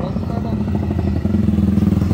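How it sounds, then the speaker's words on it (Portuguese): A modified 190cc motorcycle engine with a new piston runs steadily up close, its low rhythmic chugging holding level and then growing slightly louder and pulsing toward the end. "Lembrando que a gente vai ter que amaciar esse motor ainda"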